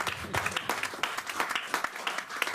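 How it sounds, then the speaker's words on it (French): A church congregation claps in a burst of fast, uneven applause, close and lively, over a couple of seconds with faint voices underneath. "Donnons une acclamation."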